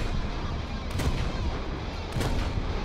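Ship guns firing in War Thunder naval combat, two heavy booming reports about a second apart over a steady roar of game ambience during a close-range fight with Japanese coastal vessels.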